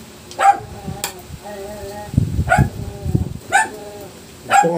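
A dog barks several times in short, sharp yaps spaced about a second apart, close by, with some background chatter and noise between barks.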